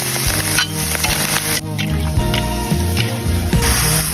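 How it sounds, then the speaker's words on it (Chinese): Green peppers hit a hot wok already holding wild morels, garlic and mushrooms, giving a loud close sizzle with wet spatters and repeated scraping stir strokes against the metal. "青椒下锅"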